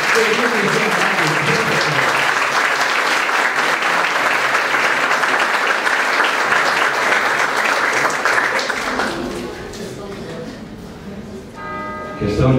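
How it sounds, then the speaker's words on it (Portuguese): An audience applauds during a solemn city council session honoring teachers: loud, sustained clapping from many people for about nine seconds, then fading as talk begins. "Por favor, todos, uma salva de palmas"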